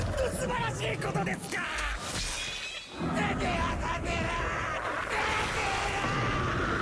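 A fighter character in a Re:Zero crossover video game lets out a loud scream during a special attack, packed into a dense, busy mix of battle effects and crashes that runs almost without a break.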